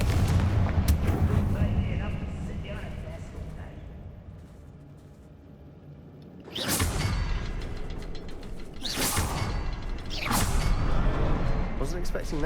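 A Confringo spell in Hogwarts Legacy sets off several loud explosive blasts in the second half, each bursting sharply and then rumbling, after a quieter stretch of in-game ambience.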